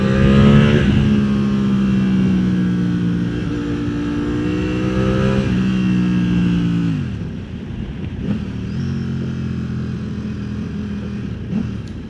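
A Ducati Panigale V4 or V2 sport motorcycle accelerates hard through gears using its quick shifter, engine pitch climbing in loud rising sweeps with crisp drops at each upshift, close by.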